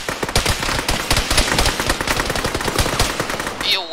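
Sustained automatic gunfire in the video game Arma 3 in a jungle setting, rapid loud bursts of rifle and machine-gun shots overlapping continuously for several seconds with no talk.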